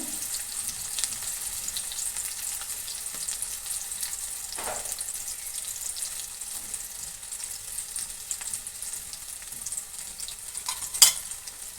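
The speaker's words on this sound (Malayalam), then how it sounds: "ഉള്ളി വറുത്തിടാൻ പോവാണ്" Continuous sizzle of onions frying in hot oil, close and fairly loud, with an occasional clink or scrape near the end.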